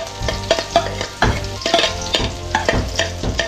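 Garlic and onion sauté in a hot pan, a loud close sizzle broken by repeated rhythmic scrapes and clanks of a spatula against the metal, with no one talking.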